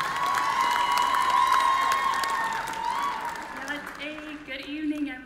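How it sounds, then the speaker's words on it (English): At the Miss Indian World 2019 pageant in Albuquerque, an audience applauds and cheers a contestant, crowd clapping and whoops mixed with loud voices and ringing tones, fading toward the end. "let's give a round of applause, contestant number 11, Autumn Rain Pilcher."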